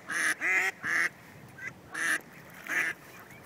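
Ducks quacking indignantly at close range, a string of loud, harsh nasal quacks in uneven bursts with short pauses between them.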